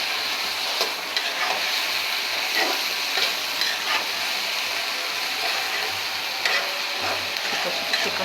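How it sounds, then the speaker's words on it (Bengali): Lotir (taro stolon) curry stirred in a pan, with a steady close sizzle and repeated scraping strokes of a spoon across the pan surface, no talking. "দেখতেই পাচ্ছেন আমি হালকাভাবে আবার বেড়ে নিচ্ছি"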